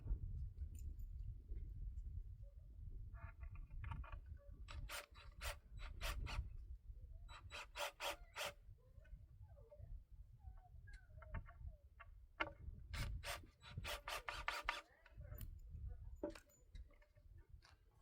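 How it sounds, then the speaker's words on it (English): Screws being started by hand into wooden knee wall studs while building an off-grid greenhouse, heard as a series of sharp clicking, ratcheting bursts separated by pauses, close and fairly quiet over low background rumble. "First, I'm gonna start a couple screws."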